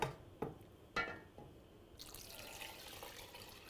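Milk being poured into a pan on a gas stove for béchamel sauce, a few splashy liquid bursts and then a steady pouring wash.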